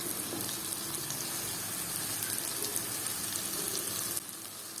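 Cooked dal lentils and beetroot in a hot frying pan give a loud, steady close-up sizzle that holds evenly, then drops slightly near the end, with no talking.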